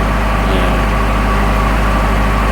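A Ford Escort Cosworth engine, just refitted after sitting unused for a long time, runs at a steady idle with a constant low drone and no misfires, heard close up and alone.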